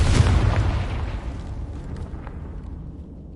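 Confringo fire spell blast in the fantasy game Hogwarts Legacy: one loud, close explosive boom that rolls into a long fading rumble, heard alone.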